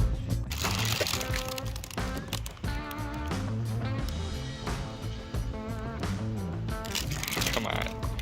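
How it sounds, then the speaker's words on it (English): Stickers being peeled off a car's dashboard during a cleanup, heard as repeated crinkly tearing and rustling with handling noises throughout, under background music. "Removing stickers."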